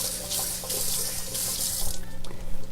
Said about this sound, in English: I'm gonna rinse my hands again.